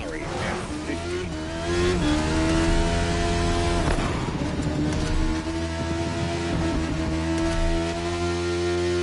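Ferrari F40 and F50 engines in The Crew Motorfest racing game, a loud, sustained high-pitched engine whine with shifting revs and some tire squeal, steady and close throughout.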